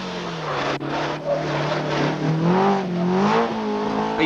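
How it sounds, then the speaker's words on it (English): Lancia Stratos rally car at the 1975 RAC Rally, a loud engine note climbing and shifting through revs as the car powers past, with one brief dip as the gears change. "Stratos looking and sounding like a potential winner."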